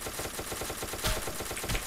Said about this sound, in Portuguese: de longe eu não consigo usar a minha metralhadora